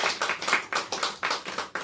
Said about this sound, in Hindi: उसके लिए एक बार तालियां बजाएंगे